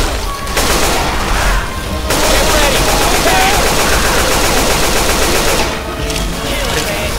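Sustained automatic gunfire in a zombie shooter game, rapid continuous bursts aimed at a tank, loud and close throughout with a brief pause near the start.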